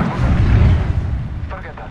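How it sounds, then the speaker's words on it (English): A grenade goes off in Apex Legends, a loud low boom that swells over the first second and rumbles away, with game voices and chatter layered over the tail. "Grenade out."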